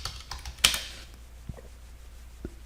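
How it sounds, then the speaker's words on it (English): Scattered keystrokes on a computer keyboard while an IP address is typed: a handful of sharp, separate clicks with uneven gaps, close and moderately quiet. "So I'm going to type IP address."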